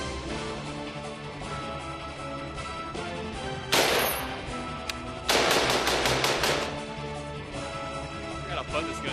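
An AK pistol fires 7.62x39 full metal jacket rounds at a titanium target outdoors: one sharp shot, then a rapid string of loud cracks, over a steady background hum with some talk.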